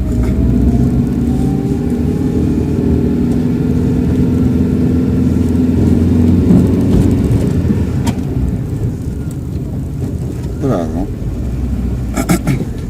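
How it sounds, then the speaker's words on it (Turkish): Car engine revving steadily in first gear during a driving lesson on narrow streets in Ankara, a loud continuous drone with rising pitch sweeps, with people talking over it throughout. "İyice bağırsın araba ondan sonra ikiye atacağız."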